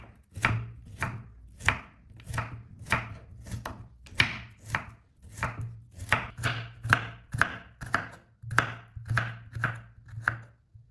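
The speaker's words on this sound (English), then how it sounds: "Peel them and cut them into small, even pieces, so they cook quickly and release their natural sweetness." A knife chops peeled carrots into small, even pieces on a board, about two dozen crisp, steady strokes in a close, loud, regular rhythm with no talking.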